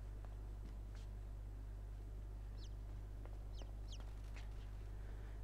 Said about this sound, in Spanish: Oh, más pollitos, más pollitos. Ah, no. Eran pajarillos.